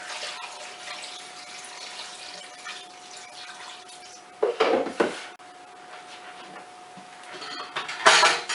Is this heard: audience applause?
no